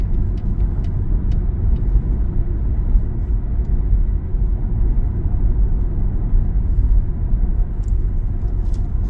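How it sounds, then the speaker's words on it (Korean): A 2023 Kia Sportage LPI on LPG fills the cabin with a loud, continuous low engine and road rumble that holds steady without clear rises in pitch, with a few faint clicks near the end. "발을 한번 악셀 페달을 한번 놔보세요. 예, 됐습니다. 밟아요."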